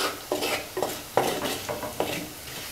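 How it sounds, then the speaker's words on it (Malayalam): Coriander powder is stirred and sautéed in a pan for a Kerala-style tuna curry, with a soft sizzle under four or five distinct scraping stirs. "മല്ലിപ്പൊടി മാത്രം നന്നായിട്ട് മൂക്കുന്നത് വരെ നമ്മളൊന്ന് വഴറ്റി കൊടുക്കണം"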